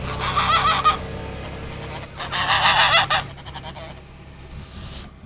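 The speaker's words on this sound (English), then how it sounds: "the geese out here." Several geese honk loudly in bursts nearby, overlapping calls with short pauses between them.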